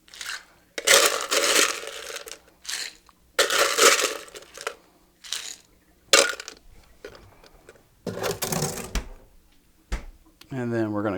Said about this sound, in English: So now let's add some more pebble ice here.